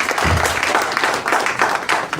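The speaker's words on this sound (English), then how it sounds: "Round of applause." Applause from an audience at a public service induction opening ceremony: a short, dense burst of many hands clapping, fairly loud and close.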